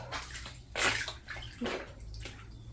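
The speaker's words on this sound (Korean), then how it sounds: "안방 천정으로 지금 물이 새는데" Rainwater leaking through a bedroom ceiling during heavy rain, heard as splashing and trickling water with irregular louder gushes over a steady low background hum.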